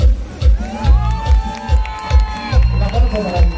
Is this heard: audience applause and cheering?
yes